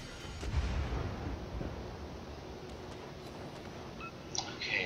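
Naval guns boom in the World of Warships video game, a heavy low burst near the start followed by a sustained rumbling wash of battle noise, with sharper bright impacts toward the end.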